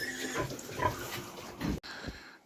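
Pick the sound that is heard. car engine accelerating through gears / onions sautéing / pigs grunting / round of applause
pigs grunting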